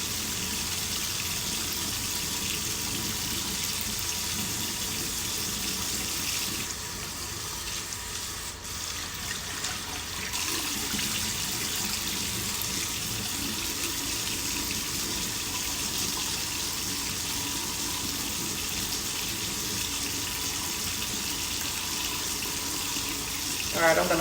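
A bathroom tap runs continuously while soap is rinsed off a face, a steady broadband hiss of water with faint splashing changes partway through.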